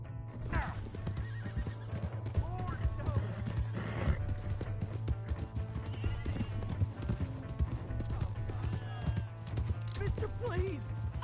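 Horses in the Red Dead Redemption 2 video game gallop with steady clip-clopping hooves and give occasional whinnies. Voices and a low droning background run throughout.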